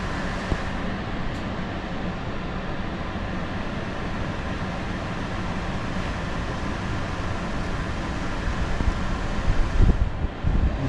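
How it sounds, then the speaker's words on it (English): A Toshiba portable air conditioner running on fan-only mode, a steady broadband whoosh of blowing air with a faint mechanical hum, constant and unbroken throughout. "This is just the fan,"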